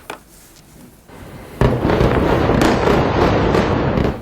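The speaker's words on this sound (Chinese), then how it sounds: "接连爆炸巨响" Airstrike explosions late at night in Beirut near the main airport: a sharp heavy blast cuts in, then a sustained, loud rumbling roar of further bursts continues to the end, with a faint thud earlier.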